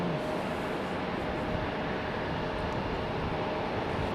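Airliner in orca livery landing at Raleigh-Durham airport, a continuous broad engine roar heard from a distance, steady and unbroken, with no talk.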